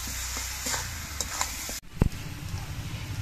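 Chicken with chopped green chilies sizzles in a hot pan while a spoon scrapes and stirs it, with a sharp clatter midway and steady frying hiss underneath.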